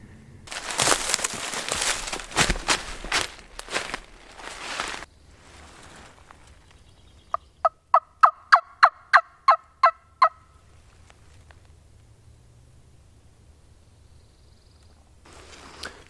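A wild turkey gobbles in Alabama woods, a rapid rattling burst of about a dozen clipped notes at moderate distance, preceded by rustling footsteps in leaves and followed by quiet.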